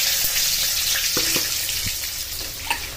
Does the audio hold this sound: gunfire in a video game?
no